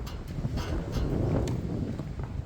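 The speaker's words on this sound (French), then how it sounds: "regardez-moi cette bourrasque qui en est" Wind gusting across an outdoor tennis court during a match, a low rumbling buffet against the microphone that swells and eases, with a few faint clicks and knocks in the background.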